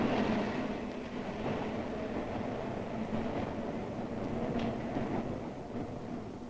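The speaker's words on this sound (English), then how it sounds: "Ride the elevated train all the way from the Battery far uptown." An early elevated train in New York rumbles along the tracks with a steady, loud rolling roar and faint rhythmic wheel clatter that continues throughout without pause.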